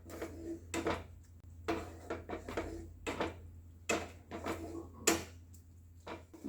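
Raw mango and sugar chutney stirred in a pan, a spoon scraping and knocking against the metal in a steady, irregular series of quiet clinks and scrapes.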